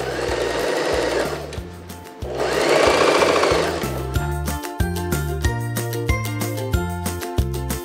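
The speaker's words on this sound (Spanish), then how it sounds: "Vamos a darle una puntada del 3. Y cosemos con costura recta." A sewing machine runs a straight stitch along a blouse hem, its motor whirring in steady bursts with short pauses between runs, close and loud with no talking.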